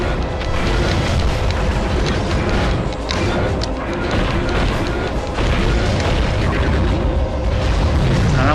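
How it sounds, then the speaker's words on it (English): Heavy, continuous rumbling crash and booming impact noise in War of the Monsters, loud and dense from start to finish as a giant monster battle rages, with no talking. "I'm gonna smash you with a rock"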